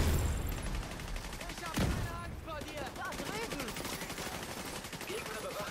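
Rapid automatic gunfire from a firefight in the video game The Division 2, dense continuous bursts that are loud and close, with faint voices underneath.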